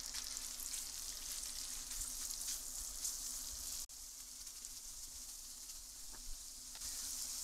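Beef chuck pieces fry in plenty of butter in a frying pan, giving a steady, close sizzle with fine crackle throughout and a brief drop partway through, with no talking.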